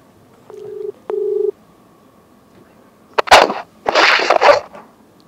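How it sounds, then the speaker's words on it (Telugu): A telephone call rings out with two short, clear ringback tones in quick succession. These are followed by a pause and then loud, harsh noise bursts close to the microphone. "రింగ్ అవుతుంది."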